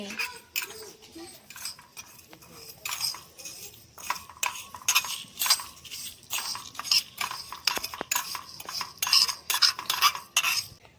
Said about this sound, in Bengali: এর মধ্যে প্রথমেই দিয়ে দেব শুকনো লঙ্কা, দিয়ে দিচ্ছি এই মশলাগুলো। এটাকে কিছুক্ষণের জন্য নেড়ে নিচ্ছি।